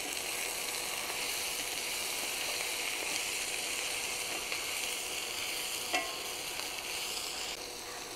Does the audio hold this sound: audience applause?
no